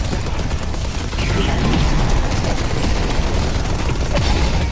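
Automated turret in the video game Deadlock firing in a dense, continuous rattling burst that stays loud and steady throughout, layered with game noise.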